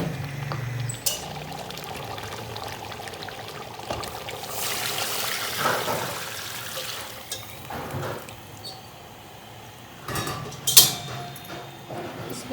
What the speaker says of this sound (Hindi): इसमें गर्म पानी डाल दिए,